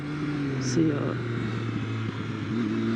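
A 2013 Triumph Street Triple 675 R motorcycle engine drones steadily nearby on a winding road, its pitch shifting slightly as it rides along, with a steady rumbling hum throughout.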